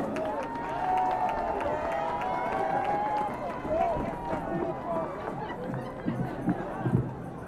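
An audience claps and murmurs for a singer at the Strasbourg Christmas market show, a moderate, fairly steady ripple of applause and crowd noise that grows scattered toward the end, with talking throughout.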